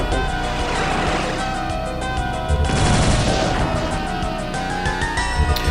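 Rapid plasma rifle fire in a Doom-engine shooter: a dense, unbroken stream of loud energy shots with no pauses, swelling briefly midway amid other game noise.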